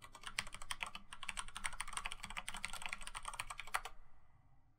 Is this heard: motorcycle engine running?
no